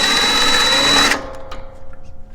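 A power drill whirs steadily while backing bolts out of a ComfortBilt HP22 pellet stove during a convection fan replacement, then cuts off abruptly, leaving faint clicks and handling noise.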